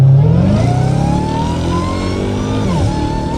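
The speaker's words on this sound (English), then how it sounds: "So I've been kind of more enjoying the exhaust, just because I never had the back windows open." A Dodge Hellcat Redeye with a cat-back exhaust revs loudly and close by, its deep engine note climbing and dipping in pitch through a couple of throttle blips.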